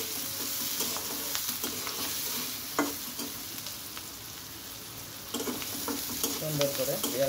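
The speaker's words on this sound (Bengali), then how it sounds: "সুন্দর করে পেঁয়াজগুলো ভাজলে টেস্টি হবে।" Onions fry in a pan with salt and turmeric, a close, steady sizzle broken by stirring scrapes and clatters.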